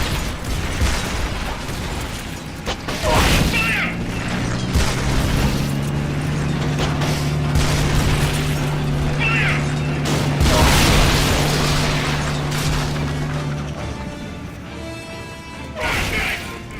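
A tank's main cannon fires in Metal Gear Solid Peace Walker, loud booming blasts with crashing, ratcheting mechanical clatter amid a sustained droning engine hum.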